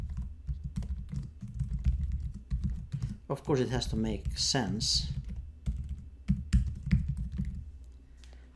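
Rapid clicking of a computer keyboard during office word processing, steady close keystrokes throughout, with a person briefly speaking midway over the typing.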